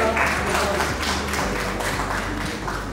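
Applause at an award ceremony, a crowd clapping steadily and fairly loud over a constant low hum of a hall sound system, with no break in the clapping.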